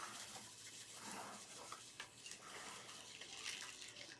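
Plain water pours steadily onto freshly sown tatsoi seeds in a small bowl, a continuous close splashing trickle with no talk.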